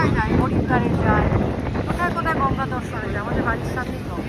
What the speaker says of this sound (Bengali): মারাত্মক হাওয়া দিচ্ছে।